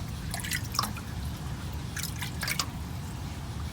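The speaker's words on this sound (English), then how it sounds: "I'll just put a little bit of the water in" Water trickles and drips into a home aquarium in a fish room, a few irregular splashes close by against a steady low hum.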